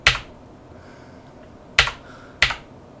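Three sharp, isolated key presses on a Sinclair ZX Spectrum keyboard, close and crisp, with one tap at the start and two more near the end, no talking.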